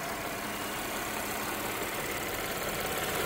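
A 2011 Audi S4 sport sedan sits idling, its engine giving off a steady, even rumble close by that holds constant throughout with no talking over it.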